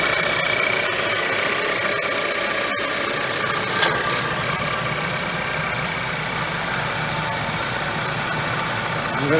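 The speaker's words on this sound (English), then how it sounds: "The vehicle is started fine." A 2012 Ford Focus SE engine idling after a starter replacement, a steady mid-pitched running drone with faint knocking vibration and one small click partway through, close and continuous.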